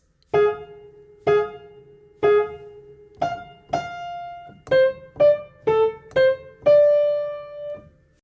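A piano plays a short treble melody from Maple Leaf Rag of separate notes and paired hits, starting with a few evenly spaced repeats, then quicker notes ending on a held tone.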